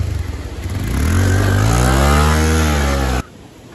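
A motorbike engine revs close by, its pitch climbing steadily and loudly for a few seconds before cutting off abruptly. No speech.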